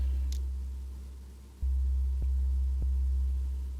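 Deep sustained 808 bass tone synthesized in Ableton Operator with a long release, a continuous low rumble that swells and is retriggered a few times, ringing out alone without any voice.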